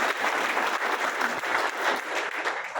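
A crowd at a public gathering claps continuously, producing a dense, even wash of applause that stays fairly loud from start to finish.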